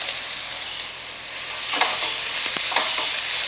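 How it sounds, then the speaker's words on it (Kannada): Onion and carrot sizzling as they are stir-fried in a pan for nylon sabbakki vegetable upma, a steady close crackle with a few louder stirring scrapes near the end. "ಈರುಳ್ಳಿ ಒಂದು ಸ್ವಲ್ಪ ಅರ್ಧ ಹುರ್ಕೋಬೇಕು, ತುಂಬ ಹುರಿಯೋದೇನು ಬೇಡ, ಸ್ವಲ್ಪ ಅರ್ಧ ಹುರ್ಕೊತೀನಿ"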